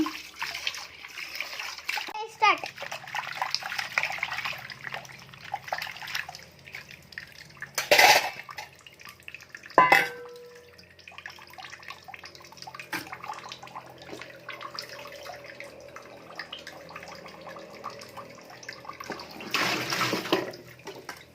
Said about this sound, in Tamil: நல்லா ஒரு 2-3 வாட்டி நல்லா வாஷ் பண்ணி எடுத்துக்கலாம் அந்த மீனை